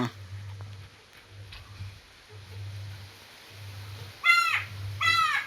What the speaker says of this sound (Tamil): நம்ம காக்காக்கு பேர் குரோக்கா